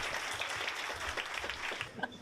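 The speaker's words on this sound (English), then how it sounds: "a round of applause for Danny" Audience applause at a research workshop panel on MEV and orderflow, a short burst of moderate, scattered clapping from a modest room crowd.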